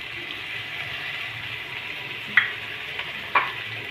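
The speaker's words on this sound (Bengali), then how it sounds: "তেল গরম হলে দিয়ে দেবো, প্রথমে দিয়ে দেবো আদা কুচি," Chopped ginger frying in hot oil in a wok, a steady close hiss of sizzling oil with a couple of brief clinks of a utensil, no talk.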